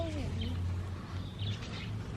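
Pet budgies chirp in brief, light tweets over a steady low hum and outdoor grass-side ambience, the calls faint and scattered rather than continuous.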